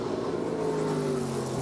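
An ARCA Menards Series stock car laps the Berlin Raceway short track during a 2022 race, its engine a steady, close roaring drone with a sustained tone that holds throughout, and no voices.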